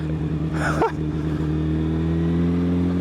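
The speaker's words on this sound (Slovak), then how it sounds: "to má záťah tá motorka" A Suzuki Bandit 1200N MK1 motorcycle engine pulls hard under acceleration, a steady loud drone with rising harmonics held throughout, with a brief burst of wind or voice-like noise near the start.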